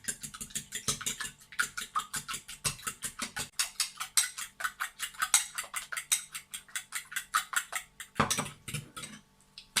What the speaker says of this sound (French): On prend la fourchette et on mélange.